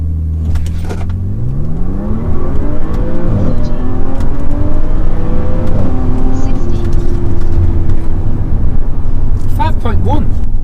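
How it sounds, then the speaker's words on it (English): A car engine revs loudly while held on the brake, then launches from a standstill into hard acceleration with rising pitch, sustained and close throughout, with a brief shift near the end. "hold it on the brake with your left foot, put some revs down, and then let it go"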